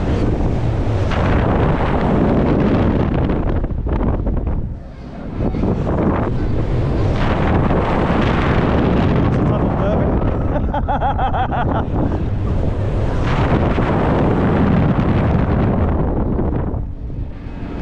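Blustery March wind at Flamingo Land resort batters the microphone in a loud, sustained roar with brief lulls, rushing and gusting almost without pause.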